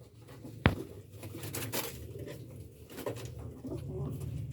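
Pigeons of a red-eyed breeding pair being handled and checked by hand, giving a sharp wing flap or scuffle near the start over a steady low cooing murmur that continues throughout.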